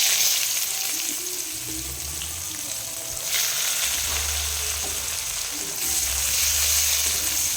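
Chopped onion sizzles in hot oil with whole cumin seeds in a pan for a rohu fish curry, a steady crackling fry with a few soft stirring scrapes and no voices.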